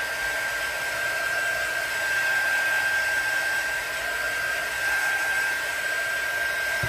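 A hair dryer runs steadily at close range, blowing over a freshly poured silicone baby dragon mold casting, a constant whooshing roar with a fixed whine and no pauses or voices.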